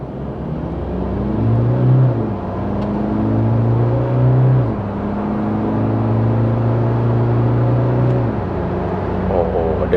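Toyota Hilux Revo GR Sport pickup in 4 High pulling hard from a standstill, engine note rising steadily through several gear changes, loud and close, with people talking over it.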